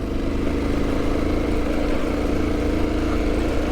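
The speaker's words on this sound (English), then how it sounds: "You hear this truck just creeping in second gear." A truck crawls along in second gear, its engine a constant low drone that holds steady and even throughout, close by with no voices.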